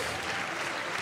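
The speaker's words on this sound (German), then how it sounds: "Einen netten Applaus für Ivo Engeler." Applause from the audience at a poetry slam: a dense, steady wash of clapping that fills the whole second at an even, fairly loud level.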